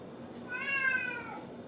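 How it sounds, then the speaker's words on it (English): A Bengal cat gives a single short, drawn-out meow, fairly soft and close, heard alone in a quiet kitchen. "I have a Bengal cat here."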